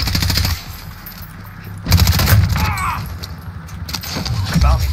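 Automatic gunfire in the video game Call of Duty Warzone, played in Season 6 with an M4, crackles in loud bursts over engine and game noise while players talk.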